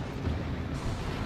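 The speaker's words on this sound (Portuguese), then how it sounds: "Acho que com um tiro eu consigo matar ele." Heavy battleship gunfire from the South Carolina in World of Warships rolls out as a deep, muffled low boom and rumble, steady and fairly quiet, with no talking over it.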